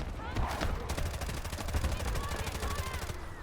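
Rapid automatic fire from an Mk18 rifle in the game Delta Force, a dense, fast, even stream of shots running almost the whole time, loud and close, with game ambience underneath.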